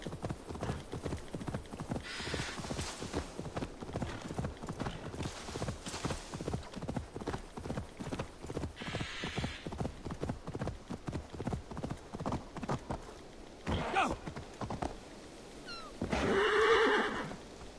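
Horse galloping in the Assassin's Creed Valhalla video game, hooves pounding in a fast steady rhythm for a long stretch, followed by loud neighing whinnies near the end.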